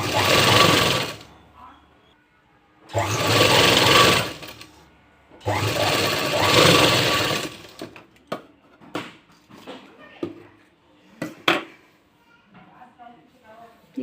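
A sewing machine stitching piping onto sleeve fabric runs in three loud, close bursts of rapid whirring stitches, each lasting one to two seconds, with a quieter stretch of handling clicks and talk between and after them.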